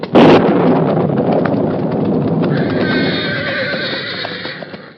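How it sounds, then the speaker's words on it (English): A roan horse whinnies in fear, loudly and close by, with hooves clopping, after a sharp thunder crash at the start in a 1943 Lone Ranger radio drama; the neigh stretches out over several seconds. "lightning forked down from low-hanging clouds with resounding crash that made the roan horse whinny with fear"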